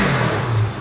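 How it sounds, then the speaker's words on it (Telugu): Bajaj NS 200 BS6 motorcycle engine running just after a self start, following a stepper motor change and throttle body cleaning; a steady, loud close hum with a faint rev rise and no talk. "ఒక సెల్ఫ్లో బండి అయితే స్టార్ట్ అయింది"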